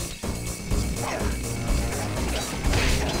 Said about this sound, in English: Deliver your clues unto me! Boom. With the sounds of smashing things.